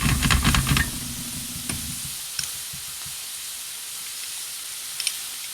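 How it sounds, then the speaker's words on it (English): Cubes of butter frying with steak in a pan give a loud sizzle with crackling pops that cuts off after about two seconds, leaving a faint hiss and a few sparse ticks. "Really let that fry."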